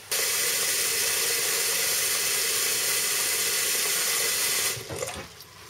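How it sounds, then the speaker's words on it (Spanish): Cold tap water pours steadily and loudly into a pressure cooker pot holding soaked dried beans, with a constant hissing rush that tapers off as the flow stops near the end. "Le pondremos suficiente agua, que no se quede corto de agua y sobre todo el agua fría."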